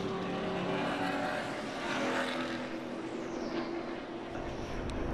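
NASCAR Cup Series race cars at Homestead Miami Speedway roar past and head onto pit road, a distant blended engine drone that rises and fades as the pack passes.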